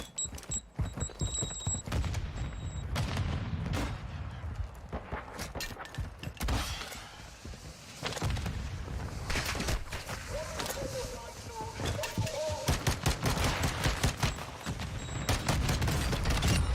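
Full-auto submachine gun fire in Warzone 2 comes as dense, rapid bursts of shots that run through most of the stretch, loud and close, with a voice talking over parts of it.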